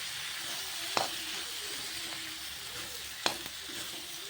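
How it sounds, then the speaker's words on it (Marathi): Green peas and boiled potato sautéing in a pan for samosa filling, a continuous close sizzle broken by two sharp scraping stir strokes near the start and end. "यामध्ये ग्रीन पीस घालून घेऊयात आणि आपला जो उकळलेला बटाटा आहे तो सुद्धा आपण यामध्ये घालून घेऊयात आणि आपल्याला हे व्यवस्थित परतून घ्यायचं आहे"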